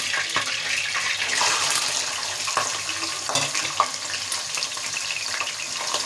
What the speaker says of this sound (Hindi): अब हमारा तेल गरम हो चुका है। अब इसमें हम प्याज डालते हैं।